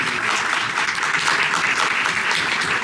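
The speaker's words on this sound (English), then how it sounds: "give yourselves a round of applause for being so supportive" An audience applauds at a book launch for a catalogue of paintings and sculptures, with dense, steady, close clapping that fills the whole stretch and no voices over it.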